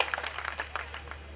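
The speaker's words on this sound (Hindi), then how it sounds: "एक बार ताली बजा के मुझे आदेश कीजिएगा" An audience at a patriotic Hindi kavi sammelan poetry recital claps together in a brief, dense patter of applause at moderate volume.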